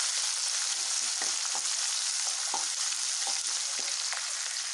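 Onions with curry leaves sautéing in a hot pan for veg kurma, a continuous loud sizzle and fry hiss with occasional stirring scrapes and pops, close up and without talk.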